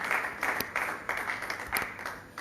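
A church congregation claps together at a morning prayer service, in bursts of brisk, close applause that rise and fall over a murmur of voices.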